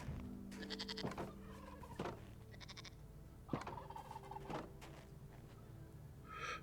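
Goats bleating in the blocky survival game TerraFirmaCraft, several short, nasal calls repeating at intervals over a quiet background hum, moderately close.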